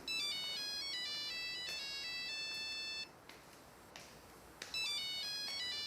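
A basic dumb phone plays an electronic ringtone for an incoming call, a loud repeating melodic pattern that drops away briefly and then resumes.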